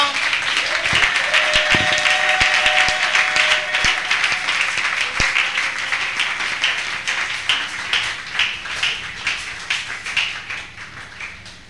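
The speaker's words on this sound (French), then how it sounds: "on peut encore l'acclamer fortement." A church congregation at a Sunday service claps loudly and steadily, dense applause with a few sharp taps early on, fading gradually toward the end.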